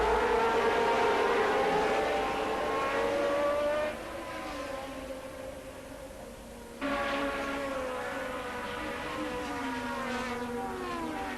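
Several 1981 Formula 1 turbo race cars roar away at a race start, a dense, loud blend of high-revving engines rising and falling in pitch as they pass, with no speech.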